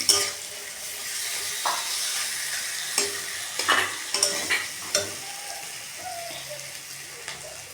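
Spice masala for a loitta fish curry is stirred and fried in a pan, a steady close sizzle broken by scraping spatula strokes and small clinks, with no voices.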